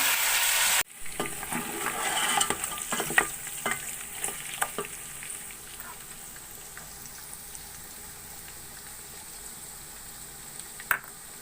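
Beef for nihari fries and sizzles in a pot, a steady hiss with scattered scrapes and stirring knocks; it starts louder and settles into a quieter sizzle, with no voices.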